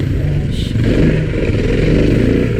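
A 950 adventure motorcycle on a gnarly dirt track near rainforest gives a loud, close, continuous engine roar that holds steady throughout.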